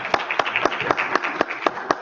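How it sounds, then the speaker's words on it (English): A small group claps in a classroom or lecture setting, with a brisk, fairly even rhythm of distinct claps heard close by over roughly two seconds. "Yes, clap."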